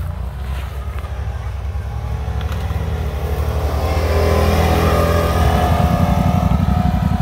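A vehicle engine with stock exhaust drones loudly up close on an off-road ride, building to a rising rev in the second half, with a steady rumbling exhaust note throughout.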